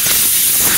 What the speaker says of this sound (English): We'll just air blow the dust here first.